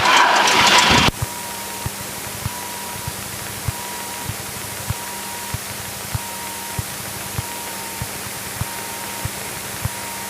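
Small training airplane engine idling after the throttle is pulled back: a loud roar cuts off in the first second, leaving a low steady idle with a soft, regular ticking pulse about every half second.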